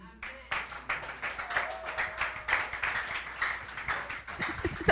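A church congregation claps together in a regular rhythmic beat, many hands in unison, moderately loud with some voices mixed in underneath.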